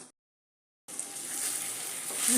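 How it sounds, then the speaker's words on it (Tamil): Raw mango pieces tipped into a pan of sizzling tempering with curry leaves, asafoetida and turmeric; after a brief silence, a sustained bright sizzle rises and holds, close and moderately loud. "இப்போ இதில் நம்ம வந்து இந்த மாங்காயை சேர்த்துக்கலாம்"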